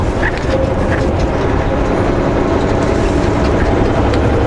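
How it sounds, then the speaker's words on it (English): A coal train rolls along nearby railway tracks beside a highway, a loud steady rumble with rattling wagons heard from a moving road vehicle. "Hey, train on the other side."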